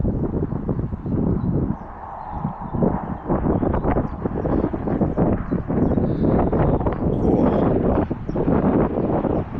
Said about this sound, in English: That wind is a little bit cold.